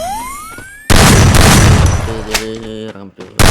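Gunfire in the Free Fire mobile battle game during a lone wolf match, heard as a loud, sustained broadband blast of shots followed by a second sharp burst near the end.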